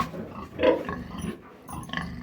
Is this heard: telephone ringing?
no